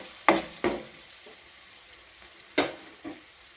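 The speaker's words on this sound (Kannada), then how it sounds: "ಫ್ರೈ ಮಾಡ್ಕೊಳ್ಳಿ." Gravy masala frying in a pan until lightly browned, with a few sharp sizzling bursts and stirring scrapes spaced apart over a quiet background.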